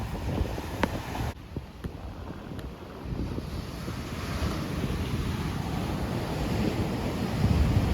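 Ocean surf rolls onto a beach in Aguadilla, Puerto Rico, a continuous wash of waves building toward the end, with gusty wind buffeting the microphone and a few sharp knocks near the start.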